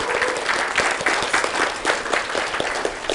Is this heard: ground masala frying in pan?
no